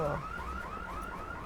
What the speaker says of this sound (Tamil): அவங்க அலாரம் அடிச்சிட்டானுங்க